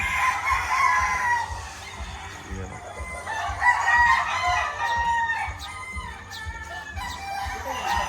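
Several roosters crow repeatedly at a farm near Mount Banahaw, their calls overlapping against a steady low hum of background noise.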